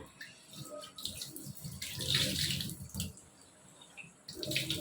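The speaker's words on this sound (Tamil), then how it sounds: "இந்த மாதிரி சிங்க்ல குனிஞ்சு இந்த மாதிரி ஹேர் வாஷ் பண்ணிக்கலாம்." Tap water runs into a sink while hair is washed with the head bent over the basin, splashing and gurgling unevenly in close, bursting pulses, with no talking.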